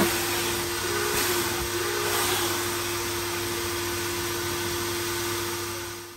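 A coin-operated car vacuum at a gas station runs with a continuous, steady whooshing roar and a constant hum, loud and unbroken throughout, with no voices.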